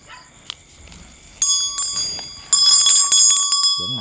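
Quiet rustling gives way to a hand bell that starts ringing loudly in close, rapid shakes, pauses, then resumes even more intensely. A brief vocal sound comes right at the end.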